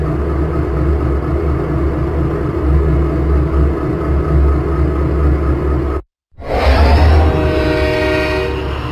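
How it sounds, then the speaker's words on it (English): A cartoon diesel train engine from Thomas and Friends rumbles steadily and loudly, cuts out abruptly for a moment, then resumes with a bright horn blast layered over the running engine. "Suddenly, Diesel had to stop. He needed to go a different way"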